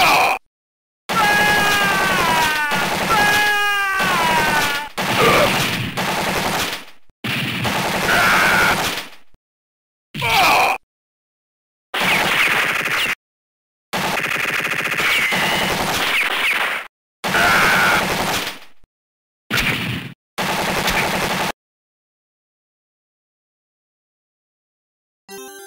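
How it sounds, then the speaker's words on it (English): Heavy machine gun fire in Metal Slug 2 arcade co-op play: loud sustained bursts of rapid gunfire chopped by short silent gaps, mixed with game effects and whining tones. "Heavy machine gun."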